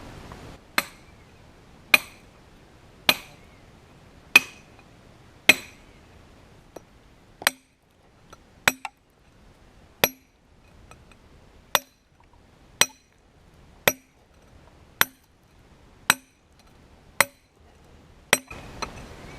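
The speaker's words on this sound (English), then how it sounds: "You got the drill bit in one hand, and you got the hammer in the other" A hammer strikes a star drill bit about fifteen times at a slow, regular pace, each blow a sharp ringing clink with quiet pauses between.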